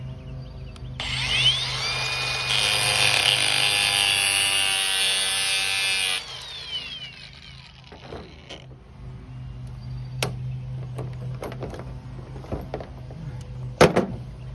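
An angle grinder cuts off a clamp while working on a 1993 OBS truck. A loud, high whining cut lasts about five seconds, then gives way to scattered metallic clanks and taps nearby.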